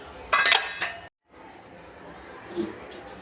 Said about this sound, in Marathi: आता मी एकदा मध्ये हलवून घेते, कारण पूर्ण मीठ लागलं पाहिजे। हलवून ठेवून झाकून घेते।